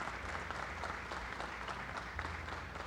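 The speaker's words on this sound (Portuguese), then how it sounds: "Uma salva de palmas, meus amigos." Applause at a roundtable session of a fitness industry conference, a continuous spread of clapping from the audience heard at a distance and fairly quiet, with a low rumble underneath.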